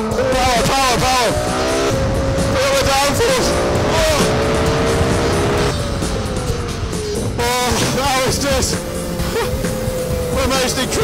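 A high-revving Renault Formula 1 car engine screams and climbs through gear changes, pitch rising and dropping repeatedly, loud and close, with a voice talking over it.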